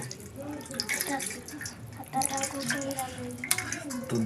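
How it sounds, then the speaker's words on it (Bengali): Water runs steadily from a tap as hands are washed before a meal at home, with a fairly close splashing stream and a voice talking over part of it. "তো আমরা প্রথমত হাত ধুয়ে নেব"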